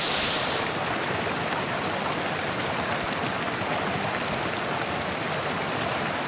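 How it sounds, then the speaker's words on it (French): A mountain torrent rushes beneath a 12-metre footbridge on a trail in the Guillestrois, giving a steady, loud broadband roar of water that holds constant throughout with no voices. "la problématique ici, c'était de franchir ce torrent qui était un passage à gué"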